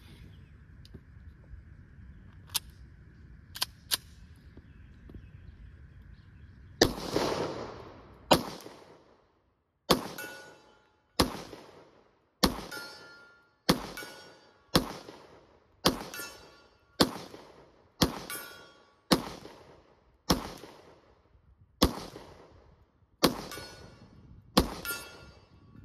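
Sharp, loud pistol shots from a Smith & Wesson M&P 2.0 10mm at an outdoor range, about a dozen evenly spaced single reports each trailing a short echo, preceded by quieter handling clicks.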